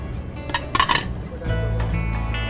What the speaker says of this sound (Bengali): আমরা পেঁয়াজ দিয়ে দিচ্ছি। একটা বড় পেঁয়াজের অর্ধেক আমরা কেটে নিয়েছিলাম, ওটা দিয়ে দিচ্ছি।